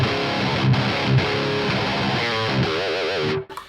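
A distorted electric guitar played through the GGD Cali Oversized Edition amp plug-in rings out with heavy chords and sustained notes, ending in wobbling vibrato bends before cutting off abruptly.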